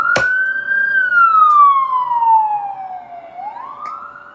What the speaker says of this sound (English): There goes your siren.